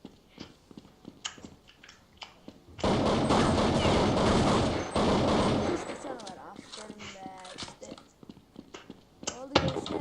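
Counter-Strike 1.6 gunfire: a long sustained automatic burst of several seconds, preceded and followed by scattered single shots and clicks, with voices talking between.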